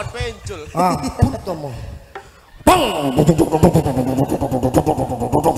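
A motorcycle engine runs loud and close with a pulsing, revving throb through the second half, preceded by voices talking and continuing over it.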